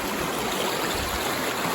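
The Manitou River rushes beneath a bridge in a dense, steady roar of flowing water, close and unbroken, with no voices.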